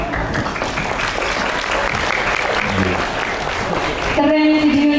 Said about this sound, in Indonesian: Beri tepuk tangan sekali lagi ya anak-anak.